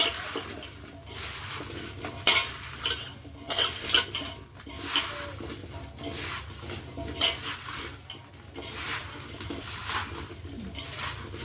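Raw mango pieces are tossed by hand with salt and turmeric in a vessel for a yellow pickle, making irregular clattering knocks and scrapes, with pigeons cooing in the background.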